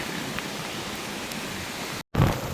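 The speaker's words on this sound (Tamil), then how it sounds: "இப்போ வந்து காற்று வந்து பலமாக வீசி கொண்டிருக்குது" Strong wind and heavy rain lash Pungudutivu island during a cyclonic storm, a steady loud roaring wash that cuts out for a moment near the end, with no voices.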